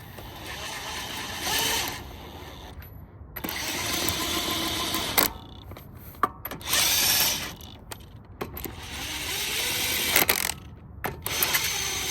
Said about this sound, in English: Now get your 19mm and tighten these bolts.